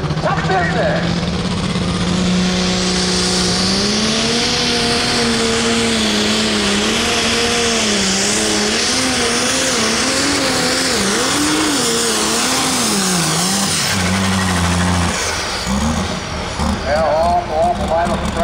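A pulling tractor, the last of the OSTPA truck and tractor pull at the Greene County Fair in Xenia, Ohio, roars at full throttle through its run. The engine note rises and wavers as it bounces along under steady announcer commentary.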